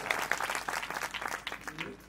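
An audience at a Marathi kirtan, a devotional song-and-sermon performance in Maharashtra, claps in a steady dense burst of applause up close, with a voice faintly over it.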